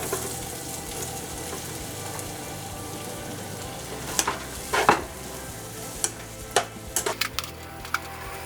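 Onion and tomato frying in a pan for aloo gobi, a steady close sizzle throughout with occasional sharp clinks and scrapes of a spoon stirring against the pan.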